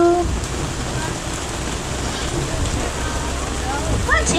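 Steady rain falling during a Kilimanjaro Safari ride at Disney's Animal Kingdom, a broad continuous hiss with a low vehicle rumble underneath and no clear voices.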